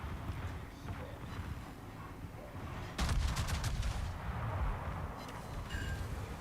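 Warship gunfire in the video game World of Warships, a burst of rapid cracking shots in the middle over a dense rumbling battle background.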